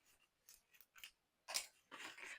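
Scissors snipping through packaging during an unboxing, a series of short close cuts in uneven bursts with a longer run of cutting near the end.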